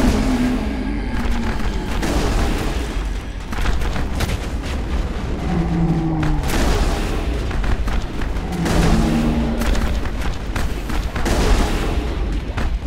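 Grenade explosions in the video game Mass Effect, heavy booms and rumbling blasts repeating across the stretch over a dense, continuous combat din, loud and close.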